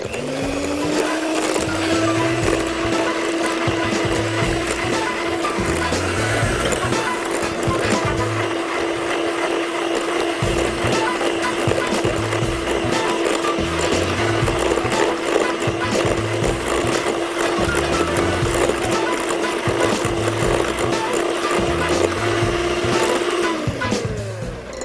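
An electric blender runs steadily and loudly for about 25 seconds, whirring date cake batter with a little nutmeg and a pinch of cinnamon, with a constant motor hum and no pause until it stops at the end.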